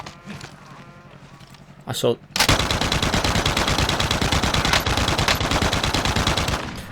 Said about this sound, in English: I know that this weapon, especially as a big machine gun, is meant to be quite good at taking out vehicles